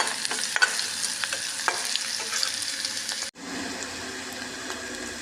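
Onion with curry leaves fries in a pan for a pea curry, a steady close sizzle with scraping stirs that breaks off abruptly, then a quieter hiss carries on.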